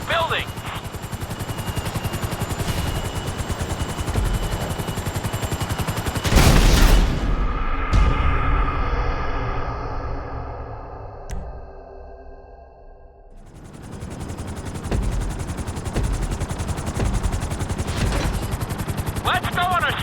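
A helicopter flies over the city in Grand Theft Auto V, its rotor chop dense and loud, broken by a burst of heavy gunfire-like blasts midway, then fading briefly before returning.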